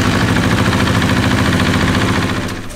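A KTM 690 SMCR supermoto motorcycle engine idles with a steady, close, pulsing thump and rattle that holds evenly before dropping off at the very end.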